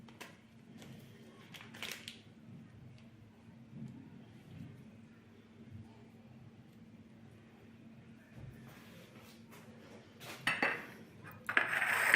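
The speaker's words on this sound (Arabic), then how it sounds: "كنقطعهم هكا دواور او مربعات كما قطعتوهم." A knife works through two bananas, slicing them into rounds or small cubes with soft, scattered taps on a board, faint and close, followed by louder clinks of dishes and utensils toward the end.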